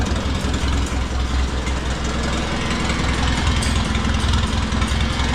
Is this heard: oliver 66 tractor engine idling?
yes